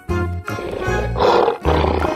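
A cartoon tiger roars in two loud, rough, close bursts, the second following quickly after the first.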